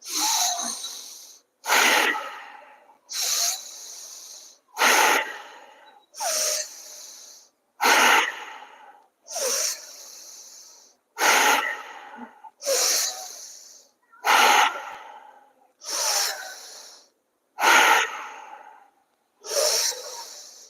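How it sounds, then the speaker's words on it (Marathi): Bhastrika pranayama, a forceful yoga breathing practice, heard as about thirteen sharp, hissing nasal breath bursts. They come in a steady rhythm roughly every second and a half, close and loud, with short silences between them. "भस्त्रिकाचा आपण पुन्हा सराव करूया"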